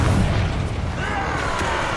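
A Confringo blast spell in the Hogwarts Legacy video game goes off as a deep, loud boom that starts at once and rolls into a rumbling, crackling tail lasting about two seconds.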